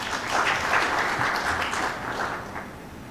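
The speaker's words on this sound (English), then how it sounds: "I want to request everybody to really clap for them." Audience applause at a seminar on the COVID-19 impact on small businesses in Uganda fills the whole stretch, a dense steady clatter of many hands with no voices on top.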